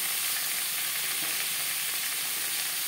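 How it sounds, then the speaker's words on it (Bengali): Vegetables frying in refined oil for a Bengali moong dal khichuri give a steady, dense sizzle and crackle that holds evenly throughout, close up, with no voices. "সবজি আমি রিফাইন্ড তেলে ভেজে নেব"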